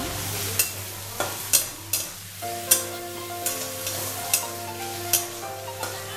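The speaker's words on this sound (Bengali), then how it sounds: "এই পেঁয়াজটাকে আমি এবার একদম বাদামি রঙে একটু ভেজে নেব।" Finely chopped onion fries in a pan with a steady sizzle, punctuated by about ten regular scraping strokes of a spatula; close and moderately loud, no talking.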